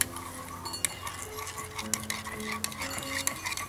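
Cocktail sauce of ketchup, horseradish and lemon juice being stirred, quiet clinking and scraping of a spoon against a bowl in quick irregular strokes, close and with no speech.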